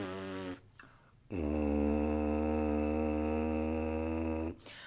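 A low, buzzing brass drone, a tuba mouthpiece buzzed alone, with a brief sputtered note, a pause, then one long, steady, deep buzz.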